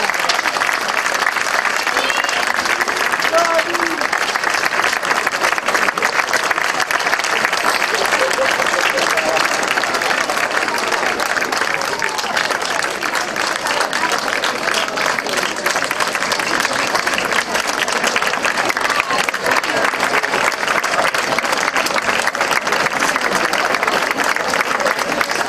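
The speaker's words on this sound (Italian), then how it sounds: "un altro applauso a loro, a voi, ai professori, alla scuola e a questa splendida piazza" Sustained, loud applause from a crowd filling a town square at an end-of-year school concert, continuous and even throughout with no break.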